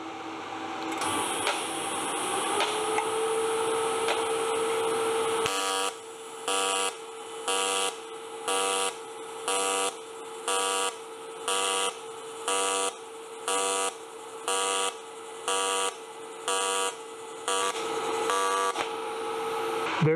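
A Kemppi MasterTIG 235 welds 2mm aluminium in mixed AC-DC TIG mode, holding a steady electric buzz that then breaks into a regular pulsing drone of about a dozen beats. There is no talk.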